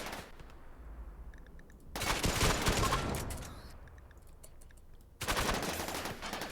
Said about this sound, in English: You're just going to be shooting at some turrets.